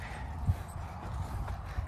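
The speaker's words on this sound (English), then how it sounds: "Good boy. Nice horse. Very pleased with this one." Horse hooves clip-clop faintly at a slow walking pace while the horse is ridden, a few soft, irregular thuds over steady outdoor background noise.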